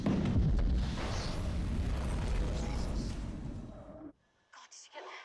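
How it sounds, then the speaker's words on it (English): A very large explosion at a burning detergent factory erupts as a loud, sustained roaring boom lasting about four seconds, then cuts to near silence followed by brief voices. "there was a very large explosion that just happened behind us"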